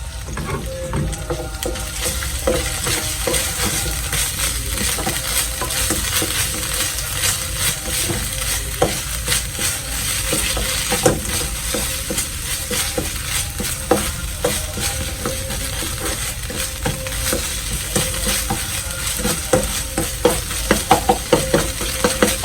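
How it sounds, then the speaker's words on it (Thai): Prik khing curry paste is stir-fried in oil in a pan for a crispy snakehead fish dish. A close, continuous sizzle runs throughout, with frequent scraping and stirring taps from a spatula, and no talking. "ตอนนี้น้ำพริกแกงเขาแห้งแล้วเราก็เติมน้ำมันไปหน่อยนะครับ ให้หอมนะครับ"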